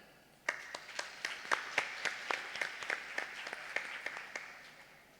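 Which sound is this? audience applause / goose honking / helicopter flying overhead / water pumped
audience applause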